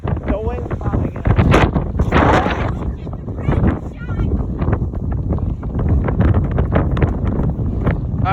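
Strong wind buffets the microphone on a windy day in southern Kansas, a steady low roaring rush with gusts, while people talk and shout nearby.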